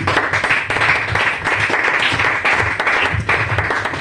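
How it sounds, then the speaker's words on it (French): A church congregation claps together in steady, dense applause, close and loud throughout, with scattered cheers mixed in. "on acclame le Seigneur Jésus-Christ"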